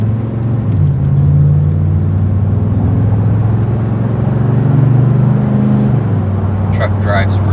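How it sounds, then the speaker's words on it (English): A 1997 Chevrolet C/K Silverado pickup truck on a test drive, with a steady engine drone and road rumble from inside the cab and a slight pitch shift as it changes gear near the end. "Truck drives really smooth so far,"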